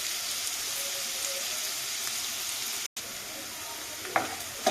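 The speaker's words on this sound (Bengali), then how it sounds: "পেঁয়াজটা ভালো করে নাড়াচাড়া করে দিচ্ছে" Chopped onion being stirred and fried in a pan for pilau rice, a steady close sizzle running throughout with a short break in the middle and a few sharper scrapes near the end.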